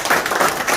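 Brief burst of crowd clapping at a Korean election campaign office opening, dense and fairly loud with no talk over it.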